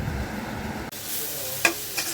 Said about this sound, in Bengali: পেঁয়াজ মরিচ ডিম দিয়ে ভাজছি